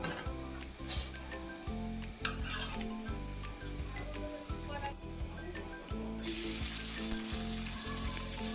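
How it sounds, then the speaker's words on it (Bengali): Egg and brinjal sizzle steadily together in hot oil in a pan, a dense, continuous frying crackle with faint clinks and stirring noises throughout and no speech. "এবার আমি ডিম বেগুন একসাথে বসিয়ে দেব।"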